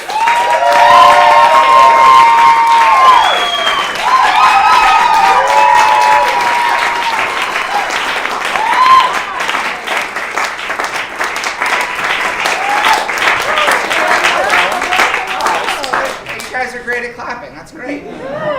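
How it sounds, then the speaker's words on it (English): A crowd at an improv comedy festival in Denver claps and cheers loudly, with whoops and shouts early on, applause continuing strongly for many seconds before tapering as voices talk over the end. "Give a big round of applause for I'm Too Fragile for"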